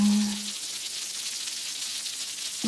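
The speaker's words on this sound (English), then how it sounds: "It begins to rain." Rain falls in a dense, even patter, a soft continuous hiss of many small drops, close and steady without voices.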